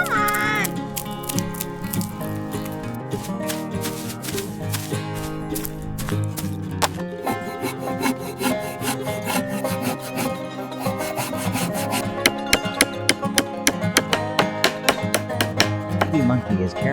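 A monkey hammering and assembling a wooden fence around a chicken coop in a video game, with steady wooden knocking and rubbing under lively game music, ending in a run of sharp regular taps.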